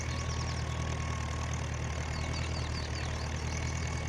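Tractor in Farming Simulator 19 on The Great Plateaus map, engine idling with a steady low rumble and a faint knocking pulse, close and constant throughout, with no talk.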